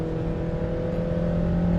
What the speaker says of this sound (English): Let's foot flat down, the revs go up